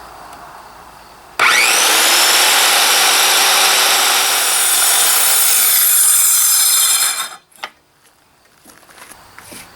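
A saw cuts into a wooden deck railing post, loud and close, running steadily for about six seconds before stopping abruptly, followed by a few faint knocks and near quiet.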